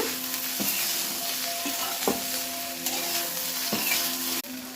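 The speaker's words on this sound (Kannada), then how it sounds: "ಈ ಆಯಿಲಲ್ಲಿ ಬೆಂಡೆಕಾಯಿ ಆಯಿಲಲ್ಲಿ ಸ್ವಲ್ಪ ಫ್ರೈ ಮಾಡ್ಕೊಳ್ಳೋಣ" Okra fries in oil in a pan, a steady close sizzle broken by several sharp utensil scrapes and taps, with no talking.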